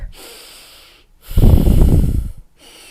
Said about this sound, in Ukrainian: І ми дихаємо ось так.